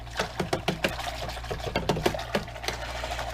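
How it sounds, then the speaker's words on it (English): A whisk stirring water in a bowl for gelatin, with rapid clinking strokes in an irregular rhythm over steady background noise, close and moderately loud. "So I'm going to start whisking"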